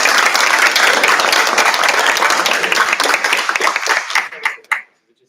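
Audience applause for a junior high band at a school board of education meeting, a dense, loud burst of clapping that thins into a few scattered claps and stops.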